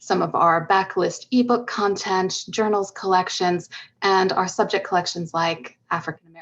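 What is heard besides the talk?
No everyday noises stand out.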